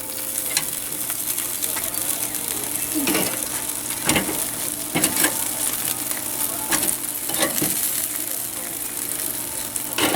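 Chicken thighs sizzle on a Weber grill in a continuous close hiss, with scraping knocks as the pieces are turned over one after another.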